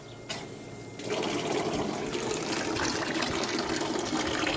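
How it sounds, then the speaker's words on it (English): A small DC pump in a solar-powered evaporative swamp cooler switches on, sending a steady wash of water over the cooler pads, heard as a continuous gushing, trickling flow close by with a brief click at the start. "I'm going to go ahead and turn the pump on."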